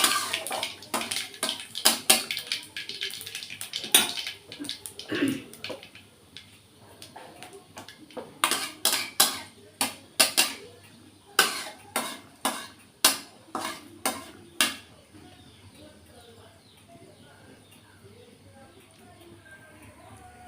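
Panch phoron five-spice seeds with dried red chilli and bay leaf frying in hot oil in a pan, giving sharp, scattered crackles and pops that cluster in bursts before fading to a quiet low hiss.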